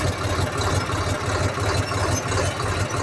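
Tractor engine idling steadily in low third gear while creeping along a field during corn sowing, a loud close rumble with a regular low throb and no pauses.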